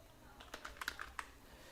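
Close, quiet typing on a computer keyboard while entering text in MS Word, a short run of soft, uneven key taps with faint room noise.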